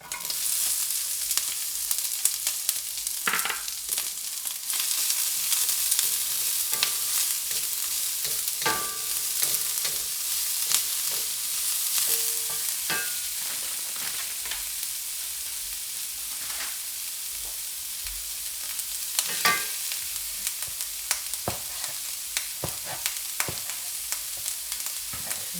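Ginger and onion stir-fry in hot oil in a pan, a loud continuous sizzle with frequent scraping and clacking strokes of the spatula, close up and with no talking.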